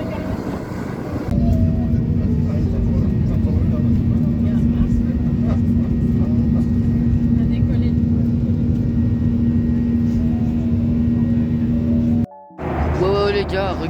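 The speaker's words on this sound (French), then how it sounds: "on va enfin décoller. Et regardez l'avion là." Steady loud jet engine roar with a constant whining tone inside an airplane cabin on the ground at Cape Verde before takeoff, broken by a brief drop near the end.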